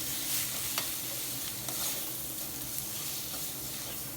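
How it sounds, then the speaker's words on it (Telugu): Ground eggplant and cucumber chutney is stirred into hot oil with the stove switched off, a soft continuous sizzle under occasional light spoon scrapes, close and steady. "ఇప్పుడు స్టవ్ ఆఫ్ చేసేసుకుని గ్రైండ్ చేసుకున్న పచ్చడిని ఈ విధంగా వేసేసి ఆయిల్లో ఒక్కసారి మిక్స్ చేసేద్దాము బాగా"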